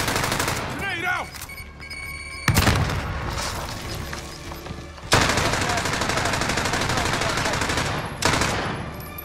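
Rapid automatic gunfire and heavy explosion blasts in a Warzone battle royale match, with three sharp booming onsets over sustained close, loud firing and a faint voice underneath.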